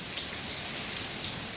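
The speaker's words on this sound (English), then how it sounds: "It's 99 degrees outside and it's pouring" Heavy monsoon rain pours down outdoors on a hot evening, a dense, steady, close hiss of water with no gaps and no voices.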